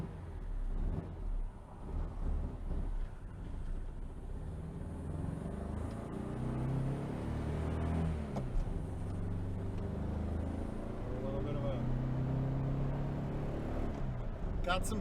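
A 1966 Volkswagen Type 3 Fastback with a newly installed engine in need of carburetor tuning drives along, its steady low engine drone and road noise continuing throughout, with occasional talk from inside the car.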